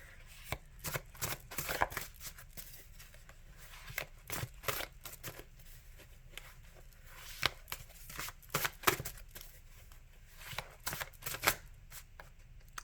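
A very large deck of about 200 cards is shuffled close up, producing a long run of crisp, irregular riffling and slapping bursts that carry on without talk.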